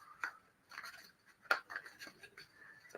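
Tarot cards being shuffled in a quiet room, a few soft riffling and flicking bursts with short pauses between, close and fairly faint.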